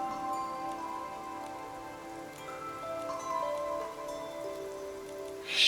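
Steady, fairly faint rain falling outdoors, pattering on surfaces with scattered drop ticks and some faint tonal sounds layered over it, swelling briefly louder at the end.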